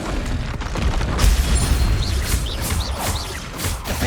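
A Bombarda spell explosion in Hogwarts Legacy, a loud booming blast with a deep low rumble, followed by several short whooshing spell bursts, close and forceful.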